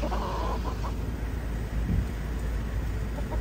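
Boston sweater brood stag chickens and chicks clucking in a noisy outdoor setting, soft scattered clucks and calls under a dense, steady background wash.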